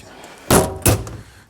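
A metal tool drawer is shut twice while tools are put away, two loud close thunks about a third of a second apart, near and sharp, with quiet room tone before and after.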